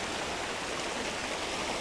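Even, hissing rush of river water flowing continuously, a soft broadband wash with no pauses or voices.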